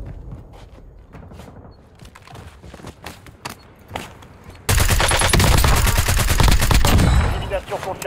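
Gunfire in Fortnite, scattered single shots and footsteps at first, then a loud continuous burst of rapid automatic fire lasting about three seconds before easing off.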